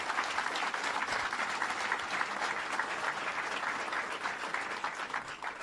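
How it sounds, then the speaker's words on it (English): A crowd at a government announcement in Suffolk County gives a sustained round of applause, dense and even throughout, with no voices over it. "Let's give him a round of applause"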